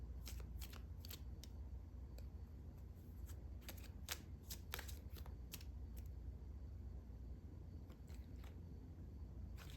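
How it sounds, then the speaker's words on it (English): Law of Attraction oracle cards are shuffled and handled in a run of crisp, rapid riffling snaps and flicks, close and fairly quiet over a low steady background rumble, with no talking. "we've got some Law of Attraction cards here. I'm going to pull a couple of these."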